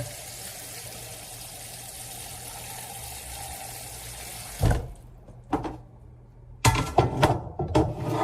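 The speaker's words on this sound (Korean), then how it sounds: "물 담아서" Tap water pours steadily into a container with a close, even hiss for about four and a half seconds, then cuts off, followed by a few clunks and knocks.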